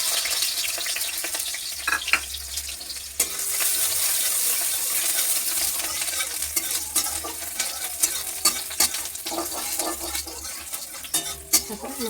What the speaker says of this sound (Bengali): তেল দিয়ে দিলাম। পেঁয়াজ কুচানোটা দিয়ে দিলাম।